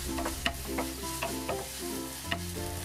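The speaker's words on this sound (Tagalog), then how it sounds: "Isunod na natin igisa itong hiniwang bawang." Sliced onion and garlic sautéing in hot oil in a pan, a continuous close sizzle broken by repeated stirring clatters, with no voices.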